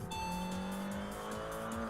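Two Nissan S15 cars race in the video game Import Tuner Challenge, their engines humming steadily at low volume with a faint rising whine and no voices.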